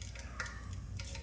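Mustard seeds go into hot oil, giving a faint steady sizzle with light crackling pops and soft stirring ticks close by.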